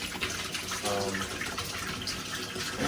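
Water runs steadily from a household tap while drinking water pipes are flushed at home, a continuous broadband gush filling the space from start to finish, with no talk over it.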